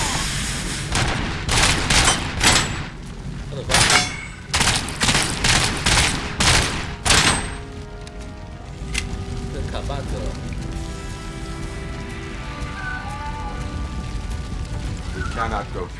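Fire burning in the RoboCop: Rogue City video game: a dense, crackling rush that bursts in loud, choppy surges for the first seven seconds, then settles into a steady roar beneath soft sustained musical tones.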